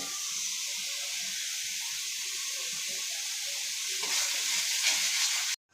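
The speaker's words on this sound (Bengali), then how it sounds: "এটা কষানো হচ্ছে মশলাটা" A paste of onion, garlic, ginger and mustard fries in a pan for a crab curry, a constant bright sizzle that swells slightly near the end before cutting off abruptly.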